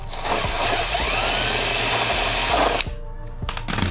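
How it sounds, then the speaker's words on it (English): A drill boring a hole for a carbon fiber splitter on a Dodge Charger Scat Pack Widebody, a steady loud whirring grind held close for nearly three seconds before abruptly stopping, followed by a few light clicks. "we want to drill the hole big enough to where this thing could fit through it"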